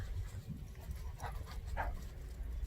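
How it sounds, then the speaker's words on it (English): A three-year-old Dutch Shepherd patrol dog pants quietly in rapid breaths, with a couple of faint, brief whimpers. "So Goose is a Dutch Shepherd"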